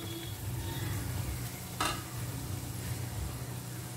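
Chilli powder and turmeric powder fry with crushed green chillies in a pan for beef pickle, giving a steady close sizzle throughout with one brief scrape of stirring partway through.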